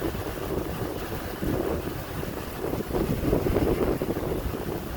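Wind blows outdoors, buffeting the microphone with a steady, loud low roar and gusts that strengthen in the second half. No one speaks.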